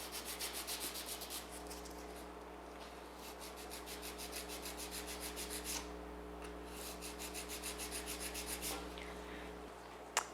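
A nail file sands the sides of a polygel stiletto nail extension in steady, rapid back-and-forth strokes. The rasping is close and continuous, with a brief pause midway and no voices.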